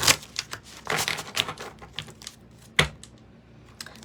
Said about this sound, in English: This is one of my favorite decks to shuffle.